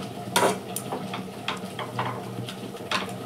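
Chicken and potol dorma filling being stirred in a pan, a spatula scraping and clinking in short strokes over a soft sizzle, with a sharper scrape near the start.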